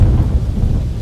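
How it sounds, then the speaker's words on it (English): Heavy rain and deep rolling thunder from Active Sky weather in a flight simulator, a loud, continuous low rumble under dense rain hiss, with no voices. "As you can see, it's pretty raining outside."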